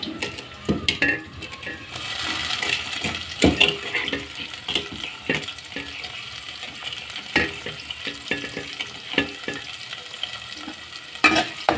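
Washed shrimp fry in a pan and are stirred, giving a steady sizzle broken by frequent scraping and clattering stirring strokes close by, with no talking.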